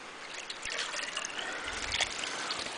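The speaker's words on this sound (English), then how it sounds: "Put a little water in there because I don't want to run it with the seal dry." Water trickles and splashes as it is poured into a pump before a hot tub pump is run, a soft, steady pouring close by with a few small splashes.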